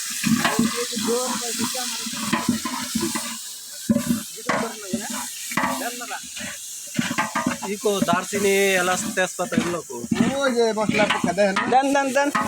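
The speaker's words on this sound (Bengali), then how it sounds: "পেঁয়াজটা ভালো করে ভেজে দিব" Onions fry and are stirred in a pan, giving a steady sizzle with repeated scraping strokes, while people talk over it throughout.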